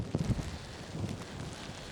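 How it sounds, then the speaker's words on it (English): Strong wind roaring and buffeting in a squall on the Scottish mountain Beinn Damph, a dense low rumble with a few sharper gusts near the start. "And it's quite windy in this squall as it comes through."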